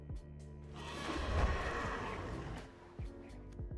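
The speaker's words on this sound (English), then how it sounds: "That horse sound is bad" Synthetic horse neigh from Magic: The Gathering Arena (Kaldheim set), a loud, drawn-out whinny lasting a couple of seconds, followed by a few brief clicks and chimes from the game interface.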